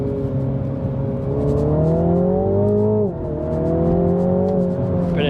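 A 2021 Mini JCW GP hot hatch accelerates hard with a loud, rising engine note heard from inside, a brief dip at a gear change, then another strong climb.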